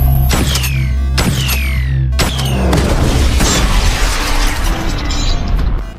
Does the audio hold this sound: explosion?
yes